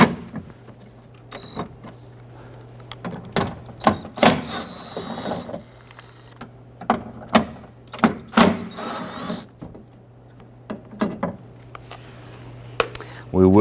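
Tools work loose three 10mm bolts from the interior door handle of a 1992-1996 Toyota Camry, with close, sharp ratcheting clicks and metallic clinks in irregular bursts over a steady low hum.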